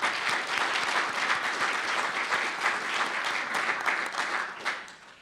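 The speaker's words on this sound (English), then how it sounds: "I know this is going to get a big round of applause" An audience at a symposium in Washington gives a sustained round of applause. Dense clapping runs steadily for about five seconds, loud and continuous, and tapers slightly at the end.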